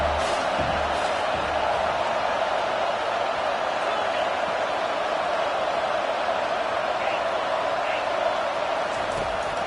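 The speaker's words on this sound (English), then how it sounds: "This crowd bringing the energy and noise early" A College Football 25 stadium crowd produces a steady, dense roar that stays loud and even throughout with little variation.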